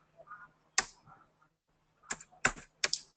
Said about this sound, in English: I'll be typing the office address for you.